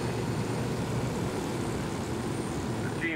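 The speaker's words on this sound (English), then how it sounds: "Make sure he's in the chopper before you take off." A helicopter in the video game Ghost Recon Wildlands drones steadily up close, a loud continuous rotor and engine rumble that barely changes over a few seconds, with no talking.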